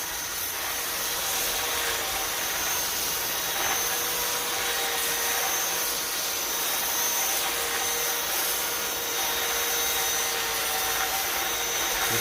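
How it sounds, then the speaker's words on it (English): A big, heavy wire brush works slowly and steadily over tractor wheel rims on a 1954 Ferguson 20 TEF Diesel, giving a continuous, even scratchy whir with no talk. "It's a big heavy wire brush. So what I do is I just go over them at a 120 on this, nice and slow"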